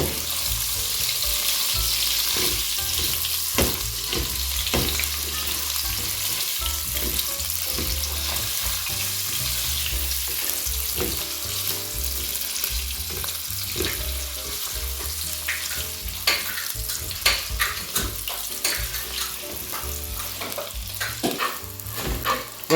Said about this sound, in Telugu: ఆయిల్ వేడెక్కింది ఇప్పుడు దీంట్లో నేను పన్నీర్ ఏదైతే ఉందో అది వేసేసుకున్నాను దీన్ని జస్ట్ ఫ్రై చేసి తీసేద్దాము